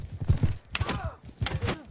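Horse hooves in Mount & Blade II: Bannerlord clop in quick rhythmic groups of thumping beats, close and fairly loud, with a faint whinny-like tone mixed in.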